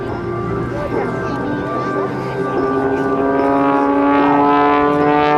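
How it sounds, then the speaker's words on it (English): A Michael Mancuso aerobatic airplane rolling left and right at the 2005 Rhode Island Air National Guard airshow gives a loud, sustained engine and propeller drone with strong steady harmonics that swell slightly toward the end. "Rolling the aircraft to the left, back to the right"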